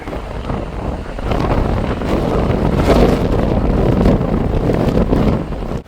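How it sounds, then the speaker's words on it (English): Strong gale-force wind roars across an open golf course, buffeting the microphone in a loud continuous rush that swells slightly and then drops away abruptly at the very end. "going back into the wind, back into the gale"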